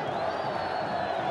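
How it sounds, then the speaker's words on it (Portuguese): América supporters at the Machadão stadium celebrate a goal in a 2009 Série B football match, a dense, steady roar of cheering from a large crowd, loud and continuous with no gaps. "Comemora e muito a torcida do América"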